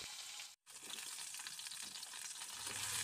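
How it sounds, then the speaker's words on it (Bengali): Potatoes frying in hot oil for a fish curry, a dense steady sizzle and crackle heard close up, with a brief silent gap early on before the frying noise resumes and swells slightly near the end. "আলুটাকে দিয়ে খুব ভালো করে কিন্তু ভেজে নেব।"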